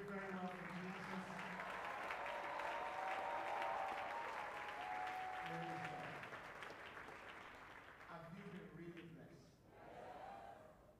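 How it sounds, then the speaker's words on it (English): A church congregation applauds in sustained, dense clapping. The applause is fairly loud at first, then thins and fades toward the end, with some voices and cheers mixed in. "if you're clapping, do it very well for Jesus."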